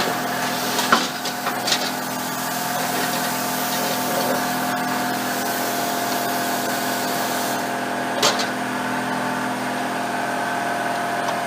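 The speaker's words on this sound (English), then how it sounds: "we're going to have the compressor going on and off, but that's par for the course, unfortunately, when you're plasma cutting" An air compressor runs steadily in a plasma-cutting workshop, a constant mid-range hum holding at even loudness throughout, with a couple of brief sharp knocks near the start and one more toward the end.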